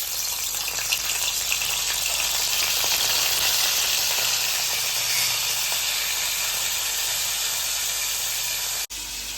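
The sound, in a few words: washed dried fish pieces frying in hot oil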